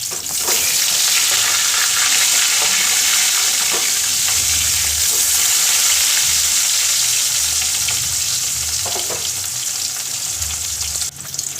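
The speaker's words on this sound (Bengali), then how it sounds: "একে তেলে দিয়ে সুন্দর করে 2 পিঠ লাল লাল করে ভেজে তুলে দিন" Pieces of catla fish fry in hot oil with a loud, steady, unbroken sizzle and a few faint clinks of a utensil, and no one speaks.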